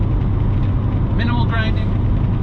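A manual transmission car downshifts on a Wichita freeway, a brief rise and drop in engine pitch emerging over steady road and engine rumble inside the cabin.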